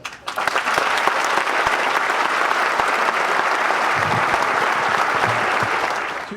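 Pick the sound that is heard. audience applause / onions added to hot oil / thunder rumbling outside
audience applause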